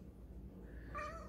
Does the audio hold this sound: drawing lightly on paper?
no